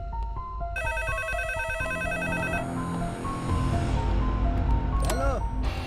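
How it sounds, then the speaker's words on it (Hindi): A telephone rings repeatedly with a bright electronic tone in a Hindi-dubbed action film scene. The ringing runs for a couple of seconds among music and effects, with voices nearby. "हेलो, अरे कौन है जो बार-बार फोन कर रहा है और बोल भी नहीं रहा है?"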